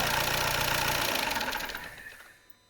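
A 1.6 TDI diesel engine (CLH) in a 2015 VW Golf estate 4x4 runs steadily right after starting with fresh timing work, a dense rattling clatter close by, then dies away as it is switched off.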